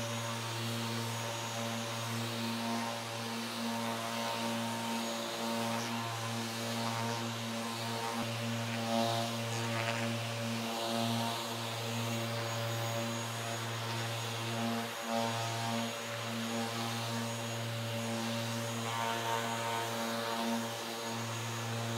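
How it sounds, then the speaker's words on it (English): A steady, droning whine with a constant low hum from a random orbital (DA) sander running with a dust vacuum attached while sanding road rash, continuous and fairly loud throughout. "Let's go ahead and use our DA sander on the other side"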